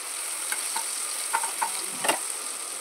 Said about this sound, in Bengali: টমেটোটাও ভাজা হবে এই তেলে